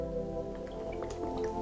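Water drips faintly indoors, a few soft, irregular drops plinking over a low steady hum, quiet and close.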